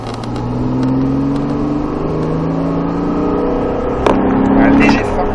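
A Porsche Cayman S engine accelerates on a French race track, its rising drone heard from the cabin with a shift and renewed pull near the end, while an instructor speaks over it.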